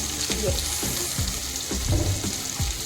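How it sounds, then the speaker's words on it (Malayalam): Slices of purple yam shallow frying in oil, a steady close sizzle and crackle with a few scraping stirs of a utensil through the pan; no voices. "നമ്മൾ ശാലോ ഫ്രൈ ചെയ്യണം"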